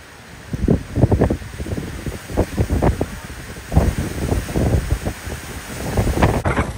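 Gusty wind on an outdoor golf course buffets the microphone in loud, low, irregular rumbling bursts, with no talking.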